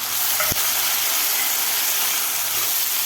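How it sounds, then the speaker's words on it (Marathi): Chopped red tomato sautéing with softened onion in a pan, a steady broadband sizzle and hiss running unbroken throughout, with one brief sharp tick near the start. "टोमॅटोसुद्धा आपल्याला सॉफ्ट होईपर्यंत परतून घ्यायचं आहे कांद्याबरोबर"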